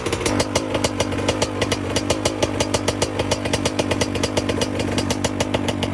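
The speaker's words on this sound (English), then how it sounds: "Let her idle down for a second and then we'll bring right back." A freshly rebuilt 2002 Honda CR80 dirt bike two-stroke engine idles down after the choke is switched off, a loud, close, rapid popping putter with regular pulses and no talk.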